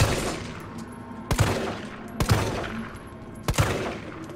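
Gunfire rings out in the Resident Evil 3 Remake, with three sharp, loud shots spaced about a second apart over a rumbling game background.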